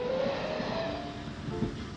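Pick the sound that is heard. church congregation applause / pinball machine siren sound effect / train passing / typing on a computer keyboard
train passing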